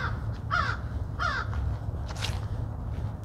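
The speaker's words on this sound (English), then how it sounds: "There's those old crows up in that tree." Old crows perched up in a tree give three hoarse caws, fairly close and spaced about a second apart, over a low, constant outdoor rumble.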